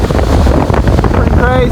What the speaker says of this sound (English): The contrast with the waves over here, the sand, with the wind blowing me over.